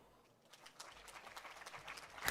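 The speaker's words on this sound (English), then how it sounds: "Let's give him another round of applause" An audience at a youth climate event claps, starting faint and sparse, then swelling into fuller, steadier applause that grows louder toward the end.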